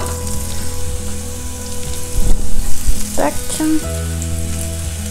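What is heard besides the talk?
vegetables browning and sizzling in a pan for Thai noodles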